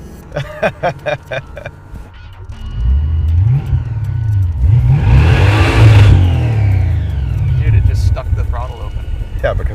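A blown Jaguar engine in the Draguar rat rod revs hard, building to a loud, sustained high-rpm roar that drops slightly near the end. Voices are heard briefly at the start.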